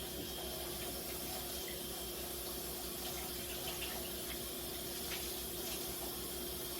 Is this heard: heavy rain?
no